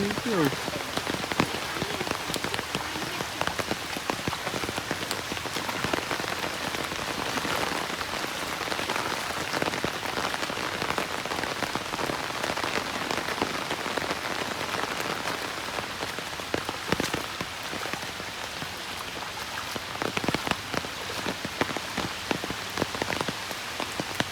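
Heavy rain falls on a flooded village road in Balasore, Odisha, a dense, continuous hiss of drops pattering on water and surfaces, close and loud for the whole stretch with no clear voices.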